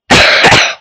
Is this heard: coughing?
yes